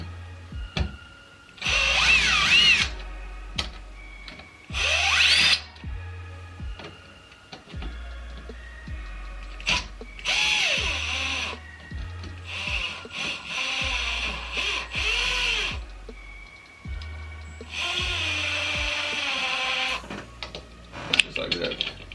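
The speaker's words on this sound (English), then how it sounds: "simply unscrew this from the wall and it'll come right out" A power drill whirs in several short bursts, spinning screws out of a Nest Thermostat E base on a wall, near and fairly loud with pauses between runs and rising, falling motor pitch.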